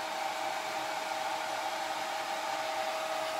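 A hair dryer blows steadily and loudly for the whole stretch, drying a no-sew fabric pumpkin made from dollar-store materials, with a constant even whine and no talking.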